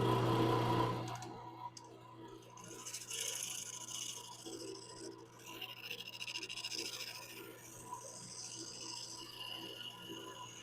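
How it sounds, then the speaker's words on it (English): A small drum sander attachment on a drill grinds against wood, a close, uneven scraping rasp in short pulsing strokes after a brief louder motor start. "I have this little drum sander attachment for the drill or drill press"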